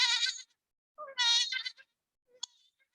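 A voice imitates goats bleating during children's storytelling, with two long wavering bleats followed by a short faint squeak.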